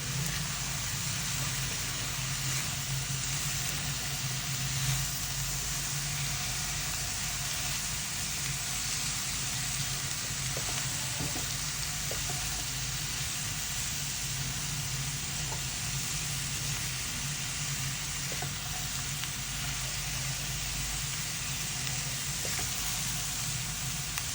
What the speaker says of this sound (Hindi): तो देखिए सब्जियां अच्छे से फ्राई हो चुकी हैं